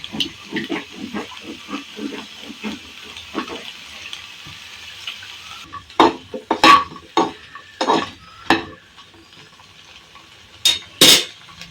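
Chopped onions frying in oil in a pan: a soft sizzle at first, then louder clattering stirs and scrapes against the pan in uneven bursts.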